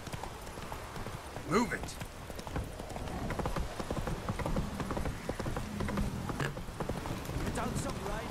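Hooves of the horse Roach clip-clop steadily at a riding pace in The Witcher 3, a continuous rhythmic trotting under a brief spoken line and game sounds.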